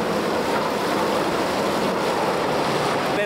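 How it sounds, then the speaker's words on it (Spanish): Hot spring water bubbling and gushing out of a rock crack near Arequipa, Peru, a steady, close, broadband rushing wash with no pauses, heard alone without talk. "yo no tocaría el agua que está saliendo con todas las burbujas, porque eso sí está mucho más caliente"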